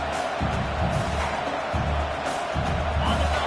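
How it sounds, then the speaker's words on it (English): A college football stadium crowd roars in a continuous broad wash of cheering and noise, loud and sustained with slight swells, heard from within the stands. "This crowd trying to make life miserable for this offense."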